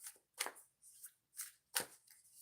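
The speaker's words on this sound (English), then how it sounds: "I'm going to shuffle it 2 times and then we'll get started." Oracle cards are shuffled by hand in quiet bursts of papery riffling, four or five separate flurries with short pauses between them, close and soft.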